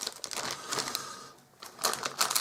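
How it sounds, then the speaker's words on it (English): Plastic bags crinkle and rustle close by in a quick, uneven burst of crackling, with a brief lull midway. "I apologise for the sound of the bags"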